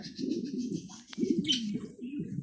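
Caged pigeons beside a window coo in close, repeated low rolling phrases, with a brief higher chirp in the middle and no talk.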